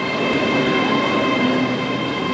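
Train pulling into London Paddington station, a loud continuous rumble of rolling wheels and carriages with a faint metallic whine, close by and alone without talk.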